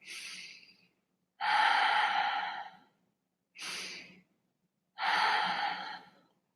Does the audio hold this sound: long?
yes